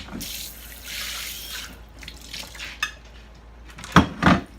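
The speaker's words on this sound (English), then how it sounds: "So I buy Romas and I split them and then rinse them" Split Roma tomatoes rinsed under a running kitchen tap, a steady hiss of water hitting the sink with a couple of louder splashes and knocks near the end.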